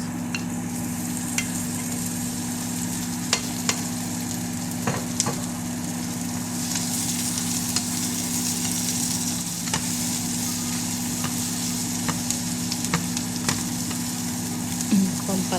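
Onion and tomato sautéing in a pan for bitter melon, a steady close sizzle with occasional stirring clicks and scrapes, running continuously with no talk.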